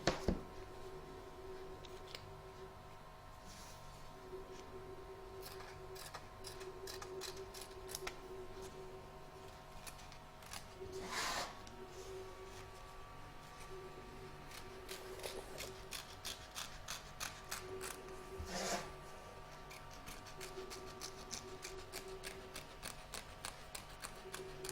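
Scissors trim excess appliqué fabric from the front and back of an embroidered T Rex piece. The cuts come as quiet, repeated snips, sometimes in quick clusters, with soft handling rustles between them and no talk.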